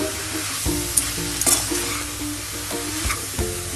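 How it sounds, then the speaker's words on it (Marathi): Grated fresh coconut and sugar are stirred in a pan over heat for coconut barfi, giving a soft continuous sizzle with repeated close scrapes and clanks of a spoon against the pan and no voices. "असं छान परतून घेऊया आपण।"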